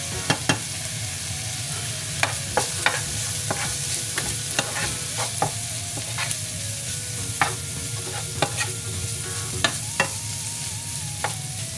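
Chicken macaroni sauce with diced tomatoes and paprika sizzles steadily in a pan, with a spoon repeatedly scraping and stirring, sharp clicks scattered over the continuous frying hiss.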